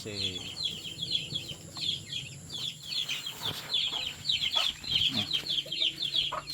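A flock of about fourteen young chicks peeps continuously in rapid, high, overlapping chirps, close by and fairly quiet, with faint farmyard background noise.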